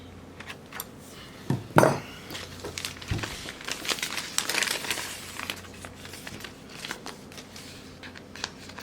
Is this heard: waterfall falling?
no